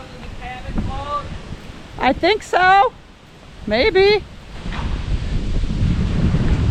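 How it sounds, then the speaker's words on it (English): Steady wind from a spring thunderstorm rushes and buffets the microphone, rising toward the end, with brief bird chirps and a few short spoken words. "It's already pretty windy."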